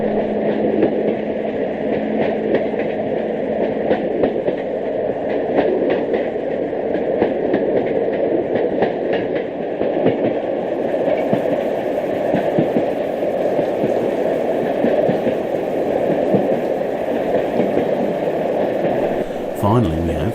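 Riding aboard a BR Class 74 electro-diesel locomotive train: a steady rumbling roll with repeated wheel clicks on the rail joints throughout, a continuous moderate drone heard from inside.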